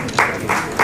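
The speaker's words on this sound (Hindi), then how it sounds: "बहुत सारी तालियां बजनी चाहिए" A crowd applauds an award recipient on stage at a ceremony. The clapping comes in three short swells over a steady murmur of room noise, moderately loud and fairly close.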